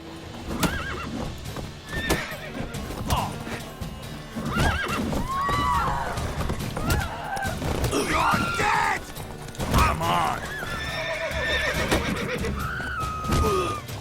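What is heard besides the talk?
horses neighing and trotting, video game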